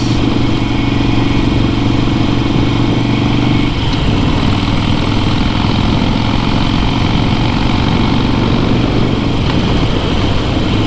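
Harley-Davidson Iron 883 Sportster engine held at about 2800 rpm, a loud close continuous throbbing rumble that barely varies.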